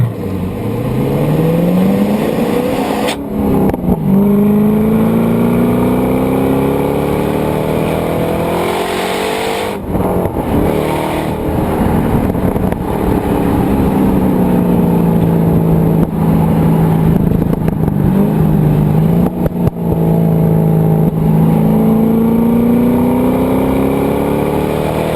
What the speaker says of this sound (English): you could hear that supercharger whining. And then that transition as all 8 pistons are roaring away through the exhaust pipes.